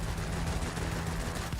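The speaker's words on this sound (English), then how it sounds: "And those cannons doing some good work there." Rapid cannon fire from a Blenheim F in World of Warplanes rattles in a dense, continuous stream, loud and close, with no voices.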